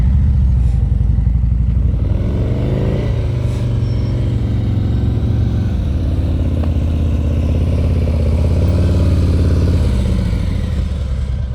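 A motorcycle at slow speed during riding practice, engine idling and putting along with rising and falling revs, loud and close, a continuous rumble, no talking.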